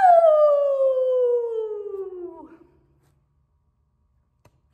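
A person's voice imitates a coyote howl: one long, loud, sliding wail that falls steadily in pitch over about two and a half seconds, then fades into near silence.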